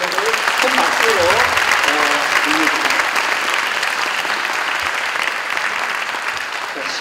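Lecture audience applauding at the close of a special lecture by a Nobel laureate, Dr. Tim Hunt, in a hall full of students: steady, dense clapping sustained throughout, with a host's voice talking over the start.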